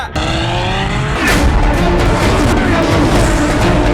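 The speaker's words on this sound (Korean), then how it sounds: "자, 스로틀이 전부 열렸어요." A loud Ferrari F12 V12 engine, about 740 horsepower, roars at full throttle from inside the car, revs climbing in a dense, continuous snarl with a voice briefly audible underneath.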